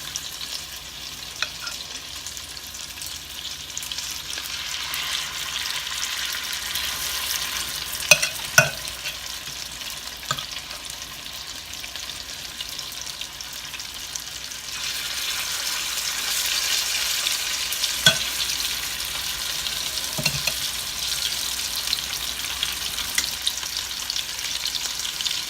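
Potato pancakes fry in a pan with a steady, close sizzle throughout, a few sharp clinks and scrapes of a utensil now and then, and the frying growing a little louder toward the end.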